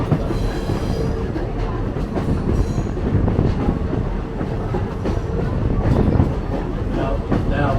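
Lehigh Gorge Scenic Railway train rolling steadily along the track, a loud continuous rumble with rhythmic clickety-clack of wheels over rail joints and occasional metallic squeals, close by throughout.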